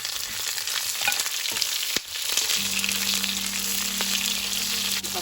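Onion crackles and sizzles in a hot pan with spices, a steady dense frying hiss that stays fairly loud throughout, with a low hum joining partway through.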